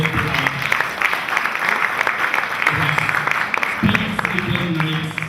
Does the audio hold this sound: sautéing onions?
no